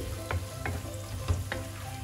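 Sherry vinegar and acacia honey heating in a pan, giving a steady soft sizzle with a few brief stirring scrapes, close and moderately quiet, no talk.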